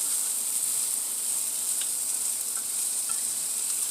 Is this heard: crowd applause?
no